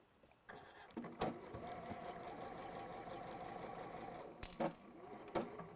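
A sewing machine stitches a dart in fabric with a steady mid-level whir that runs for several seconds, broken by sharp clicks and brief stops, heard close and alone.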